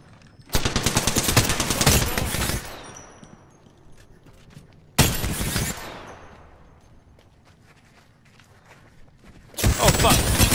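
Automatic gunfire in Apex Legends comes in three long, loud, rapid bursts separated by quieter gaps with faint game noise, and a voice can be heard at times.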